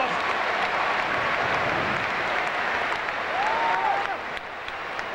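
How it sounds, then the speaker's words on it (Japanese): Arena crowd at the 1996 Atlanta Olympics cheering and applauding a Russian gymnast after his floor exercise, a loud, sustained roar of clapping and voices with a whistle rising briefly, easing slightly in the final second. "歓声に応えます。"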